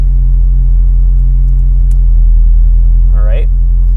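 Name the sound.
Honda K24 engine running on dyno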